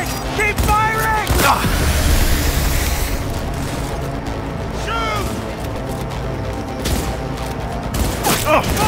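Rapid gunfire bursts in the video game Cyberpunk 2077, with loud, dense volleys and booming impacts running throughout under shouted voices calling out commands.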